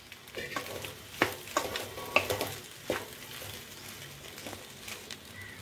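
Spatula stirring egg pasta with coriander garnish in a hot pan: irregular scraping knocks and clinks over a steady low sizzle, close and moderately loud, no talking.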